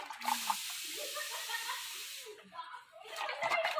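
Pumpkin leaves being washed one by one in water, a running splashy wash of water that fades out midway then returns, close by, with a voice chuckling over it.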